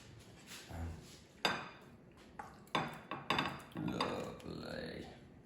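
Pasta sauce with basil being stirred in a pan, with a string of close clinks and scrapes of a utensil against the pan, irregular and moderately loud, plus some softer clatter and a brief voice.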